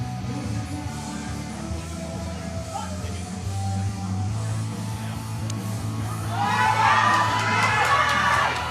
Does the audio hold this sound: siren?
no